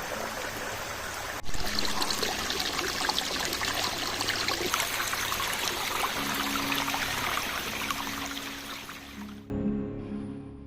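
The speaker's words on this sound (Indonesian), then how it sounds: "di hutan ini kita menemukan sebuah aliran sungai, tapi kayaknya sudah mulai mengering karena musim kemarau panjang" A stream flows through tropical forest in Sumatra, its water running and trickling at a steady level for about ten seconds before the sound cuts out sharply near the end.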